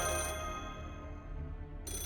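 A phone ringing in the video game Fate/Grand Order, a steady electronic ringtone with layered harmonic tones, loud and close, with no voices over it.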